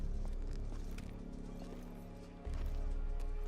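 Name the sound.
horses trotting in Telltale Game of Thrones video game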